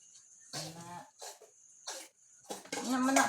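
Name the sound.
child coughing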